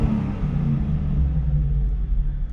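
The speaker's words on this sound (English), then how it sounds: "The LQ9 sounding really good." A Cadillac Escalade's LQ9 V8, freshly fitted with a new oil pan gasket, runs nearby with a deep, loud rumbling burble that fades slightly toward the end, alone without voices.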